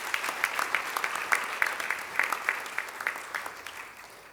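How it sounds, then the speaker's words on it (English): Moderately sized audience at a governance celebration event in Dubai claps in a round of applause, the individual claps distinct and slightly distant, fading gradually toward the end. "A big round of applause, please."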